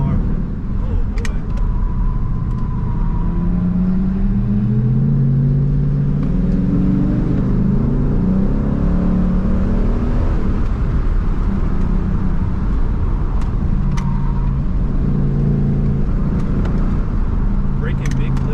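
Car engine driving a winding mountain road at night in sports mode with lower gears, a steady loud engine drone throughout with shifting low tones from revving and gear changes, continuous and close.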